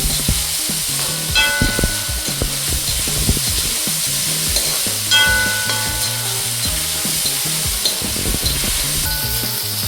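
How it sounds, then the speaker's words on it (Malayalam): Onions sizzle and crackle in a hot pan for gobi manchurian, with a spoon scraping and stirring in irregular strokes throughout; close and fairly loud, no voices. "ജസ്റ്റ് ഒന്ന് അതിൻ്റെ പച്ചമണം മാറി ചെറുതായിട്ട് ഉള്ളി ഒന്ന് വഴണ്ടാൽ മാത്രം മതി"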